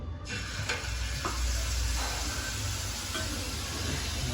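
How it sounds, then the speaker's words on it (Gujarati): Pav bread frying in a pan makes a dense, continuous sizzling hiss with a few faint clicks from a stirring utensil, heard up close and steady for a few seconds without any voices. "અમારો પાવ તળે છે"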